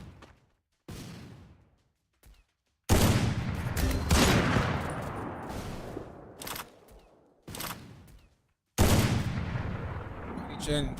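Gunfire in the Free Fire video game during an Africa Cup semifinal match, sharp repeated bursts of shots with short silent gaps, loud and close.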